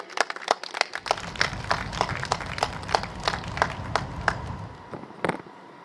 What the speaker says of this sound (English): So I would like to invite everyone to give a round of applause for our hardworking